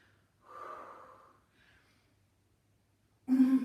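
During a shoulder exercise, a person breathes heavily with a long exhale, a faint follow-up breath, then a sharp loud snort-like gasp at the end.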